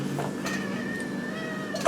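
A cat meows, a drawn-out, wavering, caterwauling cry held close and clear for most of the moment with no talking.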